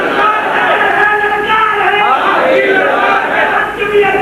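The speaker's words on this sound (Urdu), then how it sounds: "بڑے نعرے ہو رہے ہیں، بہت نعرے ہو" A large crowd at a rally in Gujranwala chants slogans together, a loud, dense mass of voices that stays steady and close throughout.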